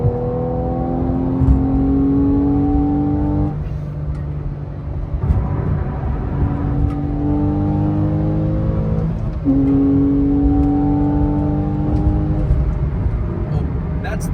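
Car engine revving up through the gears during a South Florida toy rally, rising pitch climbing in repeated steps with gear changes between pulls, loud and close from inside the car.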